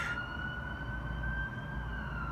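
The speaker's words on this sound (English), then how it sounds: "there goes an ambulance." An ambulance siren wails steadily outside in a city street near a hospital, a sustained high tone carrying over low traffic rumble for the whole stretch, with no one talking.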